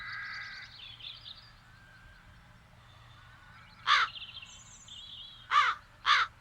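Crows caw in the video game The Dark Eye: Chains of Satinav, three sharp, loud caws near the end over a quiet, low ambient hum, with softer bird calls drifting between them.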